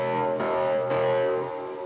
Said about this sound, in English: We've got another FM patch underneath it. This one's for the intro.